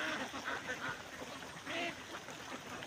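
A flock of over two thousand farmed ducks in Mindanao quacking in the morning, scattered calls at middle distance over a steady outdoor wash, with a voice speaking in the background.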